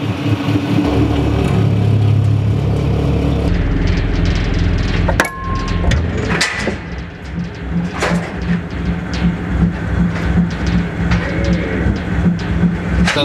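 A 200-ton hydraulic press crushes stainless steel 304 bolts, its loud steady machine hum first, then a sharp crack and metallic snaps as the bolts give way, followed by rattling and clanking debris.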